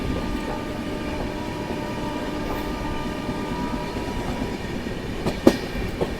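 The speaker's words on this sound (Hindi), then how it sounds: "चलिए गाड़ी अपनी स्किप कर रही है" A train running through Sasaram Junction without stopping gives a steady rolling rumble with rhythmic wheel clatter, heard from on board, with a couple of sharper knocks near the end and no talk.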